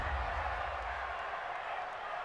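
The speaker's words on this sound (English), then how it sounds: "this crowd does not like that call" A large crowd in an NFL football stadium at a Jets–Patriots game reacts to a penalty call with a steady, dense roar that holds at an even level throughout.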